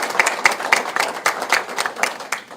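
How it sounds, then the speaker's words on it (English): A press-conference audience gives a round of applause to an honoured guest, a dense burst of many hands clapping close and fairly loud, steady throughout with a few sharper individual claps near the start. "we'll give her a round of applause here"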